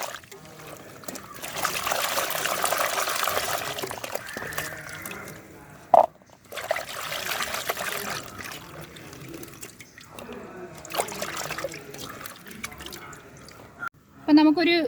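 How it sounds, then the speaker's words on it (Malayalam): Chopped jackfruit is washed in water, with trickling and splashing that starts and stops as someone talks over it. "അരിഞ്ഞു വെച്ച ചക്ക കഴുകി വരിയെടുക്കാം."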